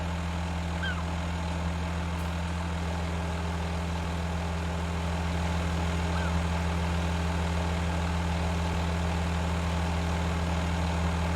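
A big heavy-duty Kenworth truck idles in Farming Simulator 19, a steady, loud, low diesel rumble with a constant hum that holds unchanged throughout.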